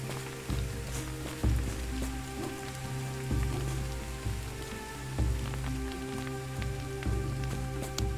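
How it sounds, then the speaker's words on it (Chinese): Rain falls steadily in the survival video game Soulmask, a dense even patter of drops on surfaces lasting throughout, with no voices over it. "这雨下好久啊。"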